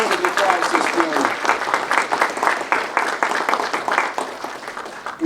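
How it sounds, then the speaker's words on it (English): A crowd applauds steadily, dense clapping that holds throughout with a few voices mixed in. "Let's give Ben a worldwide round of applause this morning."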